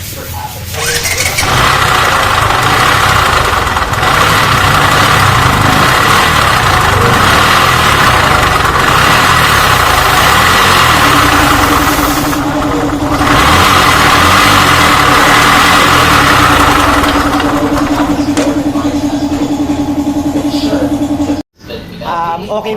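A loud, rough Rouser 135 motorcycle engine, excessively noisy, idles steadily up close, its rumble running without pause until a brief dropout near the end.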